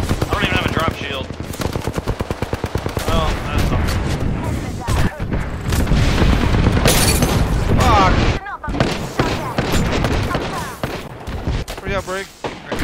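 Heavy gunfire and explosions in an Apex Legends firefight, with rapid automatic bursts and booming blasts packed densely throughout, loud and close, with players talking over the chaos.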